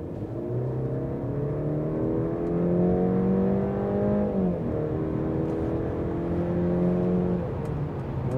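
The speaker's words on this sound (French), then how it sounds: "On va faire une petite accélération si vous voulez." A Mercedes-Benz C-Class (W206) with a small 1.5-litre engine revs up steadily, its pitch climbing through a smooth acceleration, briefly easing, then rising again, heard from close by without talk.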